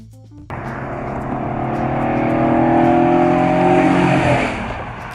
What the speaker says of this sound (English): The 1966 Dodge Coronet 500 Street Hemi.